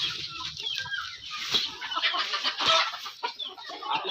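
Laying hens cluck steadily in a small coop, several birds overlapping in a busy, close chorus with bursts of sharper calls, no voices.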